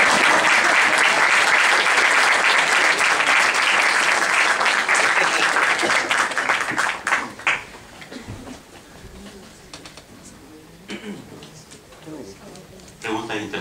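An audience at a public forum on violence and social transformation bursts into loud, sustained applause that fades after about seven seconds into scattered claps and murmuring voices.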